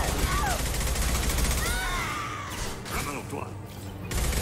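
Bursts of gunfire from an assassin squadmate in Mass Effect 2, crackling shots and rising energy whines during combat, loud and close, with a voice talking over part of it.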